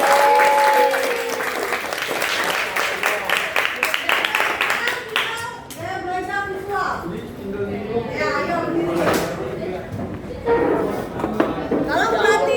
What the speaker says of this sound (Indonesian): kita beri tepuk tangan dulu buat semuanya